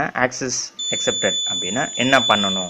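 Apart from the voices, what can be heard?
beep from an Arduino RFID reader when access is accepted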